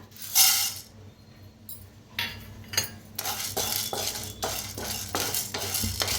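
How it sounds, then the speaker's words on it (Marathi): Chana dal being dry-roasted in a pan, with scraping and stirring clinks of a utensil against metal, broken into several bursts, fairly close, with no talking. "आता हरभऱ्याची डाळ भाजून घेऊया"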